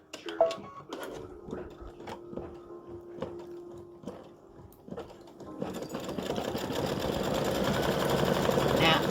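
A home embroidery machine stitches appliqué top straps in brown thread on a flip-flop pumpkin design, its needle ticking in rapid steady rhythm, close and clear. Speech runs alongside, and a louder whirring sets in for the final seconds.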